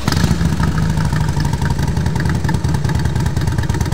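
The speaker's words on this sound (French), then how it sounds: "Même au ralenti, quand elle tourne comme ça, et on est dans un espace ouvert, la note d'exhaust est plus présente." Harley-Davidson motorcycle idling outdoors in an open space, its deep exhaust note a steady, loud, lumpy low rumble with an uneven loping pulse throughout, no talk.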